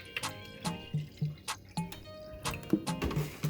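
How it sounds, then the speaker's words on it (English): Liquid fertilizer poured indoors into a watering can gives a run of soft, close drips and splashes in an irregular rhythm, ending in a denser trickle. "I'm going to pour it into my watering can first, hopefully making less of a mess"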